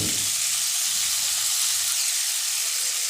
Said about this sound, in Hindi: अब ये भी फ्राई होंगे